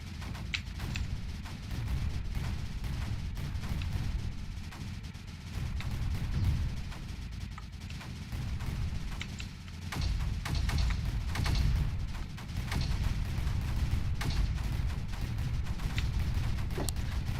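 Mortars in the strategy game Creeper World 4 fire a steady barrage of deep booming thuds that roll on for the whole stretch, loud and dense with overlapping blasts and no talk.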